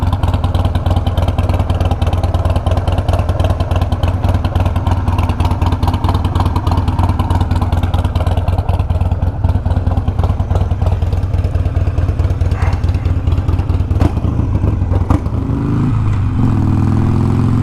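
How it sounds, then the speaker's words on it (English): A Harley-Davidson Sportster Iron motorcycle engine runs with a loud, steady, close-up rumble and a dense lumpy idle cadence, then rises briefly near the end as the rider sets off. "let's hop on the bike here, but let's just appreciate the sound of the Sportster"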